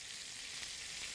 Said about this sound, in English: So we get a nice sizzle. And it doesn't take long to sear the sides.